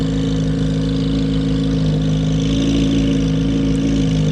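A Corvette Z06 with an aftermarket exhaust sits loud and close at a drag strip launch, its engine a steady, heavy droning rumble with strong low harmonics held throughout.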